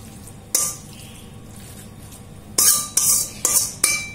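Spoonfuls of potato gratin mixture land in a buttered gratin dish, a few sharp scraping and clinking hits of spoon against dish, one early, then a quick cluster of four near the end, close and clear over quiet.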